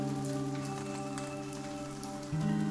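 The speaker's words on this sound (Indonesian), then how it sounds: "Nggak taunya masih rintik-rintik gerimis." Light drizzling rain patters softly and continuously, faint and steady, over a constant low hum in the background.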